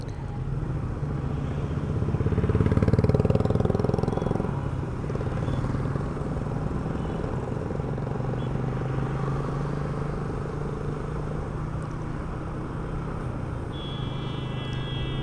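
A motorcycle rides along an expressway, its engine and road rumble steady and close throughout, swelling louder for a couple of seconds early on before settling back to an even drone.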